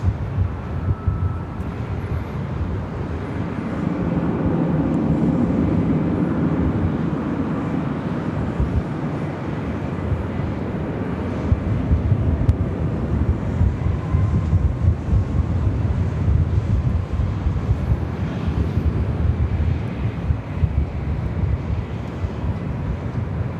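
An airliner takes off from runway 24 left at LAX, a broad low jet roar that builds and holds steady over more than twenty seconds, with some wind rumble on the microphone.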